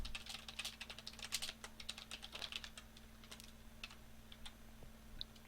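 Fingers type quickly on a computer keyboard close by, irregular clusters of light clicks and taps over a faint steady hum, slowing to a few isolated keystrokes at the end.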